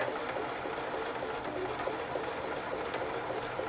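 A sewing machine runs steadily around a quilted rotary cutter cozy corner, giving a continuous close mechanical whir with faint rhythmic ticking and no talk.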